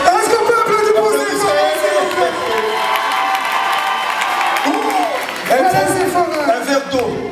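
An audience cheers and applauds at a Miss and Mister pageant show, a dense roar of clapping, whoops and shouts from the crowd, with voices calling out over it throughout.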